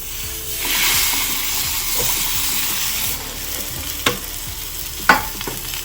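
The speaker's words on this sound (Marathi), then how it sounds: "थोडस तवा गरम झाला की आपण त्यावर तेल घालूया" Steady, close sizzling of pumpkin thalipeeth frying in hot oil on a griddle, with a couple of sharp metallic clinks near the end.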